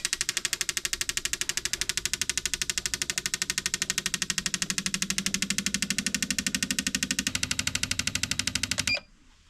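An AUTOOL CT160 fuel injector tester runs injectors from a 1300cc Alpha engine at idle speed, pulsing in a rapid, even, mechanical ticking that continues for about nine seconds, then stops abruptly.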